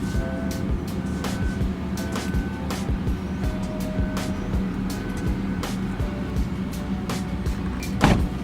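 A Scion FR-S sports car pulls out slowly, its engine idling at low rumble with steady road noise, a few sharp clicks and a louder thump near the end; no one speaks.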